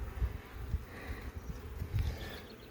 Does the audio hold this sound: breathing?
no